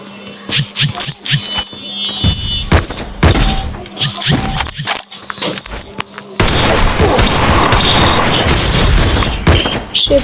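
Gunfire in a shooter video game comes in loud, thumping bursts with short gaps early on, then turns into a dense, continuous barrage of booming shots and crashes.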